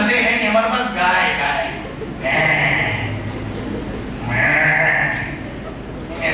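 A voice imitates a goat bleating, giving three loud, wavering nasal bleats in a row close to the microphone, each lasting around a second with short pauses between them.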